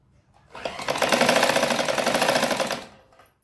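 Sewing machine top-stitching the border onto a saree, running in one continuous close, loud burst of rapid stitching for about two seconds before stopping, with no talk.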